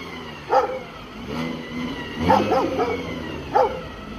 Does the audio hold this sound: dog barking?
yes